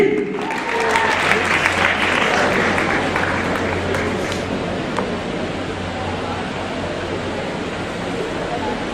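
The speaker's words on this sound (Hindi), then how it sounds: "पुरजोर तालियों में इस्तकबाल कीजिए" A large audience at a naat competition breaks into loud, sustained applause to welcome a guest, a dense wash of clapping that starts strong and slowly thins out over several seconds.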